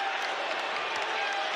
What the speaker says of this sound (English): This crowd is into it.